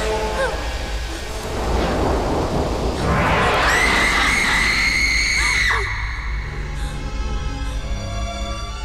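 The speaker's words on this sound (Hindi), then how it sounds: "तुमने वो चीखने की आवाज सुनी?" A woman's long, piercing scream in a Hindi horror film, held for about two seconds before cutting off, over a dense roar of rain and thunder.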